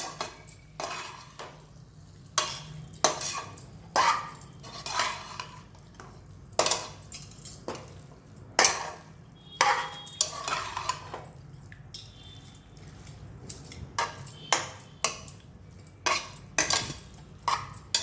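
A metal spoon scrapes and clatters against a pan while stirring and mixing a bitter gourd side dish with garlic, loud close clinks in an irregular rhythm with brief pauses.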